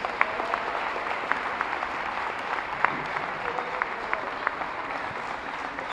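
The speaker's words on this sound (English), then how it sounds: "Let's give our seniors and their families one last round of applause." A crowd at a college basketball game applauds seniors and their families with a steady wash of clapping, scattered sharper claps and faint whistles standing out over the arena's continuous ovation.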